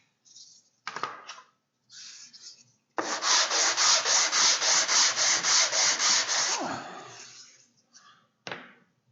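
Sandpaper rubs briskly over thin wooden strips, a close, steady back-and-forth scratching in quick even strokes lasting several seconds, with a few shorter rubs before and after.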